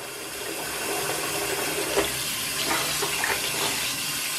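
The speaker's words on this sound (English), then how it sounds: "I rinse the sink" Tap water runs steadily into a sink, a continuous close hiss and splash with small shifts as the flow hits the basin.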